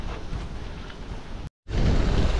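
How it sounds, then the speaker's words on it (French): Wind buffeting the microphone with fine rain during a Sunday bike ride on a greenway in northern France, a continuous rough rushing roar that briefly cuts out, then returns louder. "Le vent. Et la petite pluie fine là."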